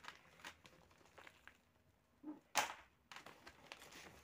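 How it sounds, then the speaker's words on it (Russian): Plastic packet of potting soil being torn open: faint handling rustles lead into one short, sharp crinkly rip up close, followed by quiet crackling of the wrapper. "Разрываем пакетик."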